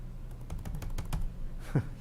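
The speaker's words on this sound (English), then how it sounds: "He's banging on a keyboard." Someone types on a computer keyboard during an online school board meeting, a quick run of close key clicks followed by a single heavier tap, with no voices.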